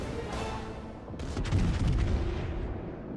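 Secondary battery guns of the French battleship Alsace firing in World of Warships: a cluster of booming reports rolls in after a quieter stretch, followed by a sustained low rumble.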